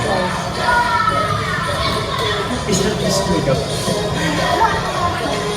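A dense crowd shouts and cheers continuously at a dance performance, children's voices prominent, a steady loud wash of yelling with brief louder peaks throughout.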